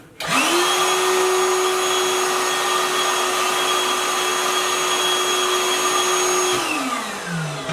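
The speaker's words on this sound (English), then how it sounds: "we just turn the vacuum on now" A Ryobi P3240 project vacuum set up as a blower switches on and runs with a steady, loud motor whine and rushing air for several seconds, then winds down at the end.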